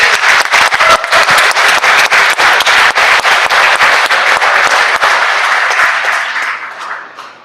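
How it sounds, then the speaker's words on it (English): Applause for guests introduced on the floor of the Mississippi Senate chamber, steady dense clapping from many hands that fills the room and fades out near the end. "please give them a round of applause"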